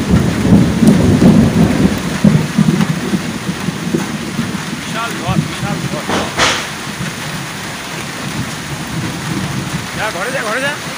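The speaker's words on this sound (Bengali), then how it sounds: "জলপাইগুড়ি ডিস্ট্রিক্ট জুড়ে প্রচণ্ড ঝড় বৃষ্টি।" A fierce thunderstorm over Jalpaiguri district brings heavy rain drumming on surfaces and low rolling thunder, with a sharper crack midway, while voices murmur faintly beneath the downpour.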